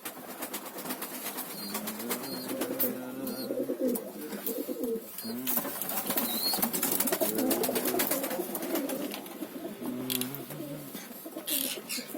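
Pigeons coo repeatedly in a loft, soft throaty rolling calls overlapping from several birds nearby, with occasional rustles and wing flutters.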